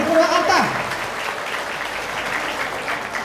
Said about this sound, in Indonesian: berikan tepuk tangan Purwakarta